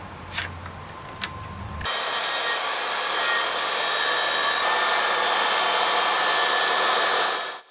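A circular saw rips through a wooden shelf base, a loud continuous whining cut lasting several seconds after a few brief knocks and handling noises, then cutting off abruptly at the end.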